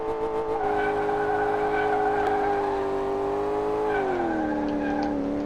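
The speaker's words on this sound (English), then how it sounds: "Rev out." Lamborghini Miura engine in Car Mechanic Simulator 2018 revs steadily with a droning, multi-harmonic tone, dipping in pitch near the end, with faint tyre squeal mixed in; no talking.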